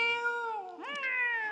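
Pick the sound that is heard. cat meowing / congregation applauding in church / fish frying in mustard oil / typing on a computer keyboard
cat meowing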